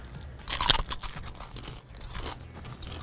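Someone bites into plain salty potato chips, a burst of crisp crunching followed by several quieter chews, close up with no talking.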